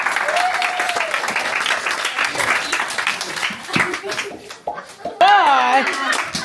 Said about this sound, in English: Hey, clap.